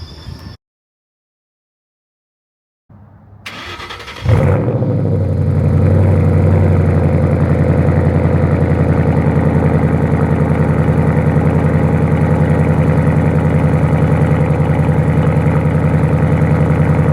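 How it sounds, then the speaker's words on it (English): After a few quiet seconds a Mustang's Coyote 5.0 V8 engine cranks and fires up loudly on a cold start, then settles into a steady, deep, rumbling idle. "We're gonna give you guys a little bit of a cold start tomorrow morning"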